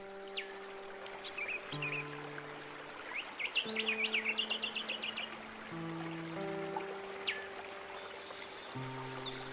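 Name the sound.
birds singing in a forest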